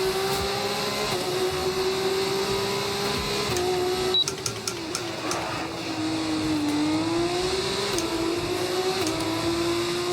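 An F2 single-seater's engine from an F1 video game whines steadily on track, its pitch dipping and rising through gear changes, with a burst of rapid clicks in the middle and no talk.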